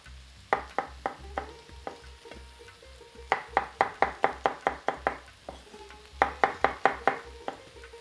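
Meat and vegetables with finely chopped tomatoes fry in a pot for a beef sauté while a spoon stirs, making clusters of sharp knocks against the pot in bursts over a low, soft sizzle.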